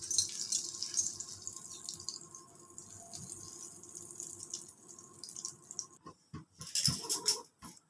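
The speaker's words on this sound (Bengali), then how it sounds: "আমি একটু বাটার দিয়ে পাউরুটিগুলোকে এপিট ওপিট করে একটু ভেজে নিলাম" Buttered bread slices fry on a hot tawa, a faint continuous high sizzle, followed near the end by a few sharp clinks and scrapes as the slices are turned.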